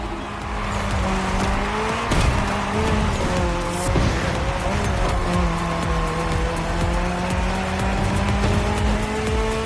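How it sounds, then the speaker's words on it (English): Race cars in The Crew Motorfest head-to-head event, including a rally car, roar with high, shifting engine tones and tire squeals, loud and sustained throughout. "Who will cross the line first in this head-to-head race?"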